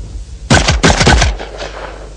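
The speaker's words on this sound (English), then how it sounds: "so let's speed shoot this Benelli and see just how fast it really is" A Benelli shotgun speed-shooting clay targets outdoors, a rapid string of about four loud, close blasts within under a second, each with a short echoing tail, and no talking.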